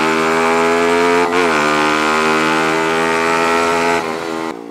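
Yamaha Sniper 155 motorcycle with a 155cc engine, still under break-in, runs loud and close with steady harmonic drone, a brief revving dip and recovery partway through, then the pitch drops near the end; no talking.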